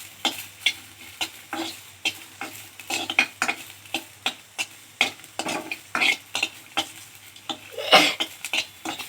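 Bassaru ingredients frying and being stirred in a pan, with steady sizzling under repeated scraping strokes of a utensil, close and fairly loud, no talking.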